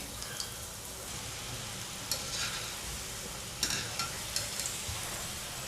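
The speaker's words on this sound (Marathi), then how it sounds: "आता मी बाकीचे तळते" Wheat flour modak frying in hot oil, a steady broadband sizzle filling the whole stretch with a few soft clinks and stirring touches, close and moderately loud with no talking.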